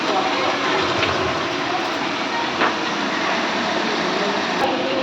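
Hot water pours into a meat curry in the pan, a steady loud broadband rush and hiss lasting throughout, close by, with no talk heard over it.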